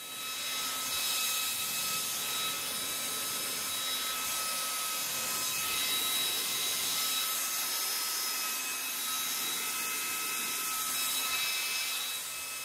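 Compact Sanyo fans from a sim-racing wind simulation kit run at high speed, producing a loud, steady rushing whoosh with a thin high-pitched motor whine that holds constant for the whole stretch.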